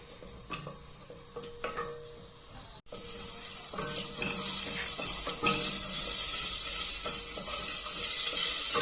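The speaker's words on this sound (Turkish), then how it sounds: "Önce havucumuzu sotelemeye başlayacağız" Carrots sautéing in a pan give a steady, bright sizzle that swells after a short pause, with occasional stirring scrapes and utensil clicks close by, no voices.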